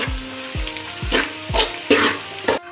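Something fries in a pan with a steady crackling sizzle, broken by four or five sharp scrapes or taps of a utensil at roughly half-second intervals, then brighter bursts of hiss near the end.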